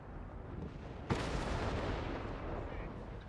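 Bishop self-propelled artillery shelling the middle of the map in a 2v2 tournament match of a real-time strategy game: one sudden, loud blast about a third of the way in, then a dense rumbling roar that goes on.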